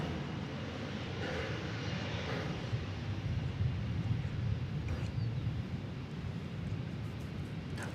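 An aircraft at DFW Airport makes a steady, distant roar that stays even and rumbling, with some wind noise mixed in.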